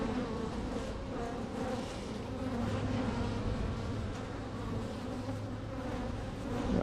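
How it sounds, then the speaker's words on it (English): Bees swarming around an open beehive during an inspection, a dense steady buzzing drone close to the listener, continuous and unbroken throughout. "I am being pelted by bees right now."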